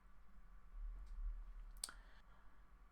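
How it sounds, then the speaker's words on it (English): A computer mouse gives a quick, faint double click, a tiny crisp tick in an otherwise quiet room. "we'll just double click on that blend file"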